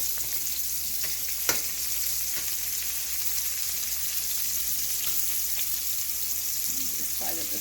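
Wild morel mushrooms fry in a hot skillet, golden brown and being turned; a loud, steady, dense sizzle fills the whole stretch up close, with a couple of sharp pops and faint clicks, no talking.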